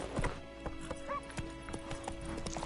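In the video game Witcher 3, a horse gallops with steady, rapid hoofbeats and gives a short whinny over faint background ambience.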